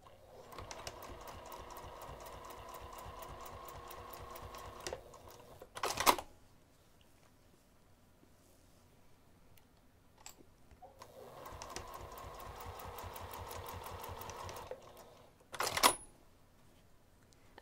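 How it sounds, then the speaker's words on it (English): Sewing machine stitching down a pleat on a craft bag, two steady runs of rapid, close needle chatter each lasting several seconds, each followed by a sharp clunk and quiet pauses. "So I'm going to sew 1/8 inch to the outside of the stitching line from the pleat"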